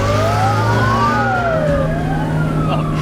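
An Albanian police car siren wails loudly and close by, its pitch sweeping up and down in long rising and falling tones over the steady rumble of a car engine.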